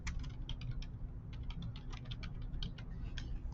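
Typing on a computer keyboard, a rapid irregular run of light key clicks close by, continuous and fairly quiet over a low background hum.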